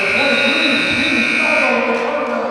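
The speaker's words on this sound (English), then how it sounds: "that buzzer will end the third quarter of play" A sustained electronic buzzer ending the third quarter of a high school girls' basketball game blares steadily throughout, loud and continuous over crowd noise in a gym.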